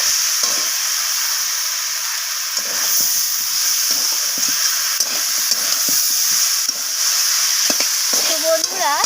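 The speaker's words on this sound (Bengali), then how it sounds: "তো লবণটাকে দিয়ে আমি সব কিছু একসাথে কষিয়ে নিচ্ছি।" Small shrimp sautéed with radish, kohlrabi and cauliflower stalks and salt in a pan, a loud steady sizzling hiss with intermittent spatula scrapes and stirring noises throughout.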